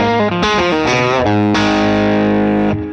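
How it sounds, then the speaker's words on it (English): An electric guitar runs through a Blackstar St James overdrive plugin on its tube screamer setting, playing loud, sustained distorted chords that change every fraction of a second before ringing out and fading. "We got an overdrive. Let's just have a listen to that with the clean sound."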